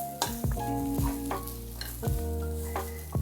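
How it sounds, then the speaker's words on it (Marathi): Grated coconut dry-roasted in a pan without oil, a soft steady sizzle broken by regular scraping strokes of a spoon or spatula roughly every half second, close and alone with no voices. "कोरडाच किस परतायचा आहे"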